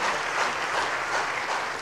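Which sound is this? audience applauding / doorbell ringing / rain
audience applauding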